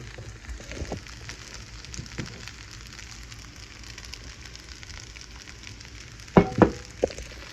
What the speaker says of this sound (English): I'm just gonna go ahead and add my eggs in.